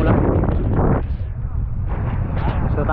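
Strong wind buffets the microphone at sea off Surigao, Philippines, amid rain and choppy waves, a loud steady roar with low rumbling gusts, while voices talk over it.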